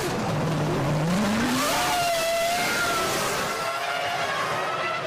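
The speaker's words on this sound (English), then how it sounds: "The engine noises are rising and the formation lap gets underway." Formula 1 cars from the 2005 season rev on the grid as the formation lap begins, loud engine pitches climbing and overlapping in a steady roar with a distant crowd wash.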